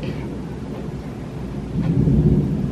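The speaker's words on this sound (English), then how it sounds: "You guys hear the thunder?" Thunder rolls as a low, rumbling roar that carries through the whole stretch and swells louder toward the end, with no voices over it.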